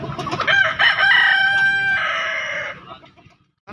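Free-range chickens at a poultry market give a loud, drawn-out crowing call that trails off, followed by a brief pause.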